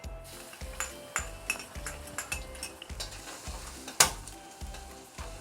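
Garlic fries in hot lard in a pan, giving a soft steady sizzle under rhythmic spatula scrapes and stirring knocks, with one sharp metallic clink near the end and no voices.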